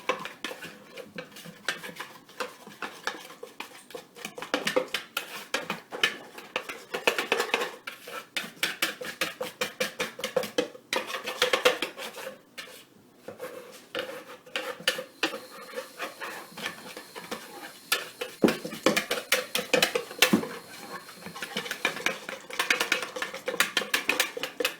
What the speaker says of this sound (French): On va mélanger pour que ça donne un mélange presque blanc.